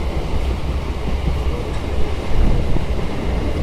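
Local passenger trains run side by side on the double line between Ghaziabad and New Delhi, making a loud, steady rumble and wheel roar heard from on board that swells a little near the end.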